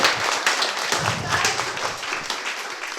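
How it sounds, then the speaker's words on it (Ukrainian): An improv comedy audience claps for an office worker, a fairly soft, continuous burst of many hands with no speech over it. "дайте офісному працівнику е, оплески"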